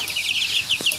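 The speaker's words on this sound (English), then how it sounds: "Come here, little chicken." Chickens that have escaped their pen give short, close clucks and soft calls over a steady high hiss, with a brief sharper note near the end.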